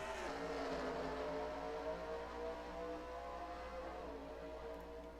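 Race cars circle a 0.7-mile Virginia short track at the green flag in the NASCAR Racing 2003 video game, giving a continuous, faint, droning engine roar with layered whining tones and no pauses.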